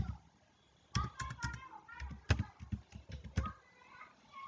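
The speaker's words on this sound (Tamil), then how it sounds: "இதில் வந்து கீழே நம்மளுடைய டீட்டெயிலாக டைப் பண்ணிடுவோம்" Typing on a computer keyboard while filling in an online petition form: irregular bursts of close key clicks and taps, fairly quiet, with a voice murmuring faintly underneath.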